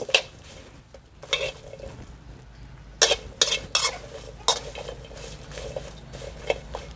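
Ingredients being stir-fried in a pan on a stove for salt-crusted grilled tilapia, quiet background sizzle punctuated by several bursts of spatula scraping and clattering against the pan, close and intermittent, no talking.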